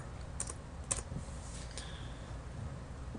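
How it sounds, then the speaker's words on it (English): Keys on a computer keyboard clatter in a few quick bursts of sharp clicks, close and moderately loud, then fade into a steady low room hum. "I'm just going to type the name of the string that I used to hold that"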